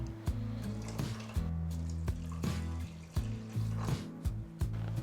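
Water pours in a steady low stream into a pot, with a few soft clinks and knocks between pours, fairly quiet.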